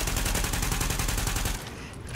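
Rapid, sustained machine gun fire in the video game The Division, loud and close with a steady rhythm of shots that drops off abruptly near the end.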